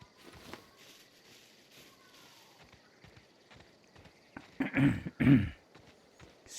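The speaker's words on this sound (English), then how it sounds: "I'm still coughing." A character in the video game The Outer Worlds coughs and clears the throat twice in quick succession, fairly close and loud, after a stretch of quiet ambient game noise with faint footsteps.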